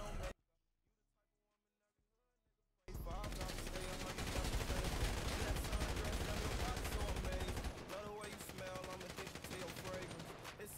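Rapid automatic gunfire in the GTA video game bursts in after a short quiet gap, loud dense volleys of shots rattling on for several seconds with a brief drop near the end.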